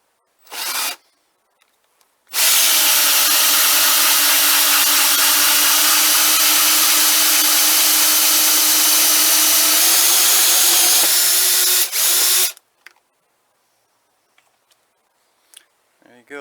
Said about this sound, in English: Then I drill a pilot hole.